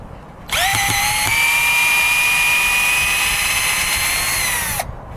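A Black & Decker combo drill in drill mode spins up with a sharp rising whine, holds a steady high-pitched motor scream for about four seconds, then cuts off, loud and close with no speech.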